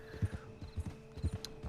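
Horse hooves clop at a steady riding pace in the video game Red Dead Redemption Online, rhythmic paired thuds under a faint continuous ambient hum.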